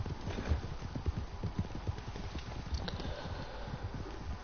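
Horse hooves clip-clop in Red Dead Redemption 2, a steady rhythmic patter of fairly close, moderately loud hoofbeats continuing throughout without talk.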